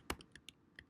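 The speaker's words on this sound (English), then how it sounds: "Just hit Command Z until I'm back to normal." Keystrokes on a computer keyboard during graphic design work, a handful of quick, sharp taps spaced unevenly across a second, close and fairly quiet with no talking.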